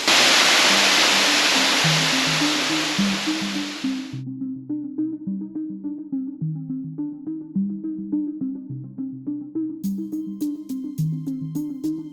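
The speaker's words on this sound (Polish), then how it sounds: "Jest! Dolna katarakta." Lower cascade of a waterfall in Costa Rica roars as steady, loud rushing water for about four seconds, then cuts off abruptly while a plucked melodic tune continues alone.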